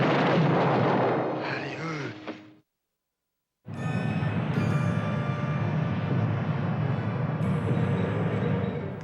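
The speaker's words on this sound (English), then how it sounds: "all the explosions were done with air mortars" Miniature explosions made with air mortars for the film 1941 give a loud, roaring blast that tails off into silence, followed by another sustained, rumbling burst of debris and fire that stays strong.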